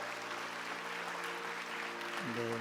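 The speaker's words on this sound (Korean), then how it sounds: "네 분이 함께 인사하실 때 뜨겁게 격려로 박수하겠습니다" A church congregation applauds steadily through an elder retirement and installation thanksgiving service, a soft, continuous patter heard from a distance, with a sustained musical tone entering near the end.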